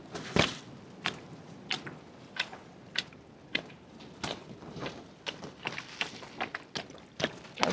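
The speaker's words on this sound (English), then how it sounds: "Let's give them a bit of a water." Water poured from a small watering can onto a freshly planted row of peas in a garden, heard as soft uneven splashes and drips in irregular bursts, close and fairly quiet, with no talking.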